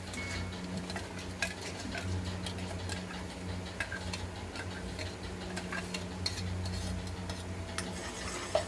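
Gravy being stirred into a pan for paneer butter masala, with repeated scraping and clinking of a spoon against the pan over a low cooking hum, close and moderately quiet, with no talk.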